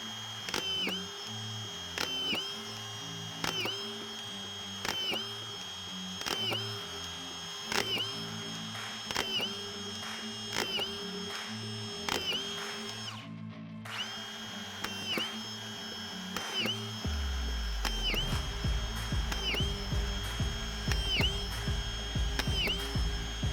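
A Hilti Nuron SD 5000-22 magazine screwdriver drives a series of screws in quick succession, each a close, sharp whirring burst with a mechanical click. A steadier, deeper motor drone takes over near the end, and no one speaks.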